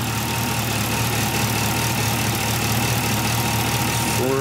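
A 1977 Camaro Z28 engine idles after a cold start, a steady, loud, close rumble with even low-end pulsing and a faint constant whine throughout.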